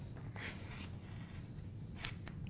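A blade cuts a file folder template along a snapped-in guide, giving faint, close scraping strokes with brief bursts near the start and again toward the end, steady low background hum, no talking.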